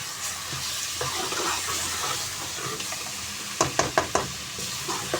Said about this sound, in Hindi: अब इसकी अच्छे तरीके से हमने बुनाई करनी है।